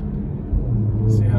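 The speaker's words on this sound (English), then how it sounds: "I don't know if you guys can hear the engine is just so powerful, so aggressive." A 2018 Porsche Macan's engine rumbles low and builds as the SUV starts a 0 to 60 acceleration, heard from inside the car with someone talking over it.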